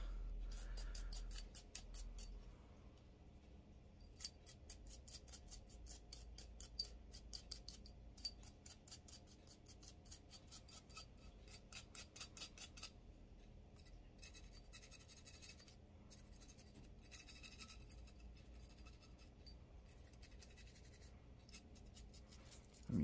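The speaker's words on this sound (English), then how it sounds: "Now we'll take our brush and kind of go around everywhere you can see and get everything scrubbed off." Continuous scratchy scrubbing of a brush working over a Llama 1911 .45 pistol, quick rhythmic strokes at close range, faint and steady throughout, with no talking.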